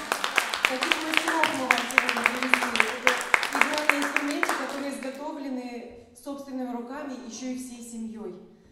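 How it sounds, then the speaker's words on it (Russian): A room of people at an annual district family national-traditions event claps after a music master class, sharp rhythmic hand claps at first that give way to a speaking voice over fading applause. "Я думаю, это заслуживает бурных аплодисментов."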